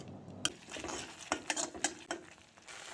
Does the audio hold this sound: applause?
no